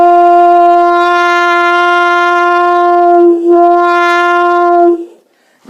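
A jazz horn played with a closed plunger mute holds one long, steady, buzzy note, dips briefly near the middle, then cuts off near the end.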